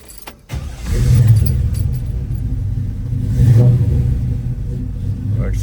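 A 1951 Chevrolet pickup with a 350 V8 cranks over and fires, then settles into a loud, steady, close rumbling idle with a brief swell partway through.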